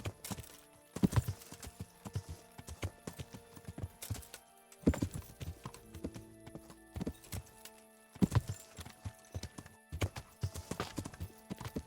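Horse hooves clip-clop in the video game Kingdom Come: Deliverance, with steady rhythmic hoof strikes at close range, broken up by a few louder thumps and short pauses.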